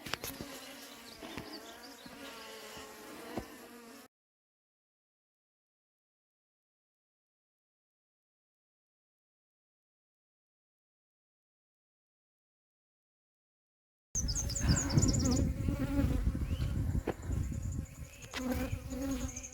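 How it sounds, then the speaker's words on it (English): Dense, agitated buzzing of many bees from a defensive hive close by, heard in two bursts separated by a long stretch of silence. "right now, a necklace of unhappy bees"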